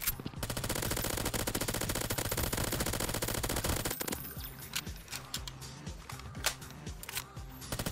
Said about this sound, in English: Stop shooting me, you are killing me!